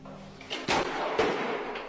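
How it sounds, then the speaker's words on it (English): A door slams shut twice near a building in the woods at night, two sharp, close thuds with a short echo over faint outdoor background noise. "something slams a door shut right next to him"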